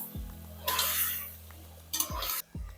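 Ingredients for sambar rice, seasoned with salt, are sautéed and stirred in a pan: a few bursts of scraping and sizzle from a spoon against the pan, separated by quiet gaps, close and moderately loud.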